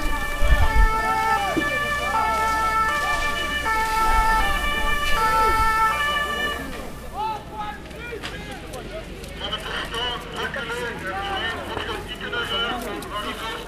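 An ambulance siren wails in repeated two-tone cycles, loud and close at first and then shifting, amid a crowd at a protest against ArcelorMittal in Namur, with people talking and shouting over it.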